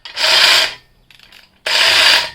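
A hand crank turns a cabin lifting jack used to raise a tiny house, giving two loud rasping, grinding bursts separated by a short quiet gap with faint clicks.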